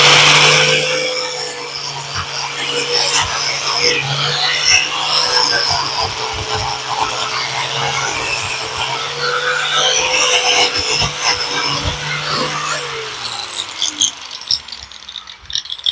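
An angle grinder works on a go kart, a loud continuous high whine with gritty rattling and chatter for about thirteen seconds before winding down and fading.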